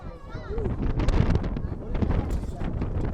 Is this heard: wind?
yes